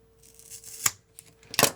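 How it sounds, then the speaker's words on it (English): Scissors snip through rope at a 16-strand splice in two crisp, close cuts, with soft rustling in between. "we're going to slide our scissors in there"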